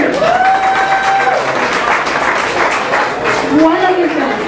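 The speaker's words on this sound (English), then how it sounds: "So all of you who know David, give a cheer for David" An audience at a New Jersey campaign event cheers and applauds for a man named David, with loud sustained clapping, whoops and voices mixed through the crowd.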